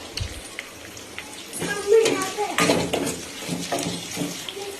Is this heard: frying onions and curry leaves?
yes